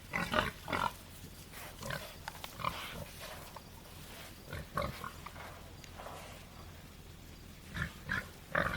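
Tamworth pigs, including a large boar about two and a half years old, grunt and snort in short irregular bursts at close to moderate range over a quiet farmyard background.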